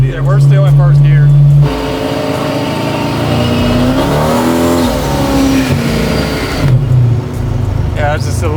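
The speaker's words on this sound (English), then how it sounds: "I can't get over how good the car sounds, man." A powerful supercharged LS V8 in a widebody BMW 6 Series with a manual gearbox revs up and down loudly in close range, rising in a sustained roar mid-way, with people talking over it.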